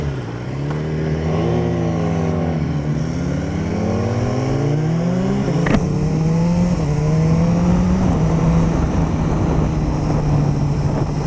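A BMW S1000RR sport motorcycle passes close by, its engine note rising and then falling in pitch as it goes past, loud and steady throughout with no talk.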